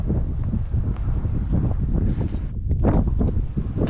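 Strong wind buffets the microphone on a fishing boat out on open water in high winds, a loud continuous roar with gusty rumbling and no speech.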